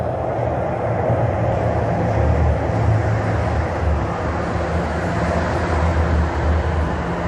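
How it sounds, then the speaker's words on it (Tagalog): Steady loud rumble and roar of a subway train arriving in downtown Toronto, continuous and close, with a broad rushing noise and no clear talking. "Ayan, going na. Ayan yung tren namin."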